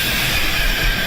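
Rumbling, hissing train noise, a loud continuous rail sound effect with a brief metallic edge and no voices over it.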